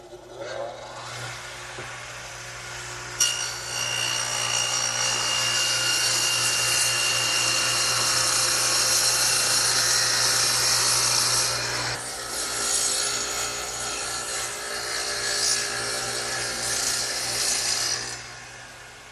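A radial arm saw cuts a groove about 1/4 inch deep and 3/4 inch wide across a wooden 2x4 in a workshop, a loud steady whine of blade on wood that runs alone for around fifteen seconds, with a change in pitch midway.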